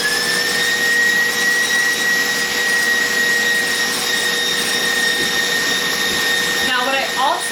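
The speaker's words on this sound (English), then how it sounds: "you just want to keep this whisking for a little bit" Electric mixer whisking a green mint marshmallow mixture, a steady, loud whirring drone with a constant high whine running throughout, with a faint brief clatter near the end.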